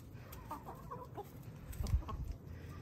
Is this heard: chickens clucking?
yes